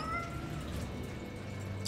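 Cats meowing in the video game Tales of Berseria, a soft, brief mew set low in the mix against a steady, watery game ambience.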